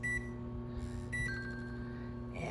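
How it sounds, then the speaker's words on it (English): An electronic timer or oven in a home kitchen beeps during bread baking, two short high tones about a second apart over a steady mechanical hum. "sorry for the beeping"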